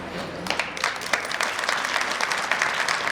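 An audience claps together at a religious discourse during a Ramdevra procession event, a dense, sustained burst of many hands with sharp individual claps popping out, steady and fairly loud throughout.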